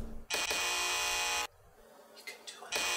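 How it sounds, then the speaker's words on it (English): A loud, harsh electric buzz sounds twice, a long burst then a shorter one, with quieter background noise between them. "he got the buzzer to work"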